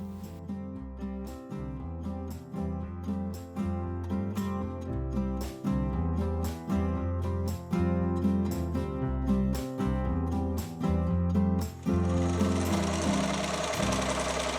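A sewing machine quilts a fabric block held in a BERNINA square embroidery hoop, its needle pounding out a steady rapid mechanical rhythm that runs continuously and fairly loud throughout, with a brighter shift near the end.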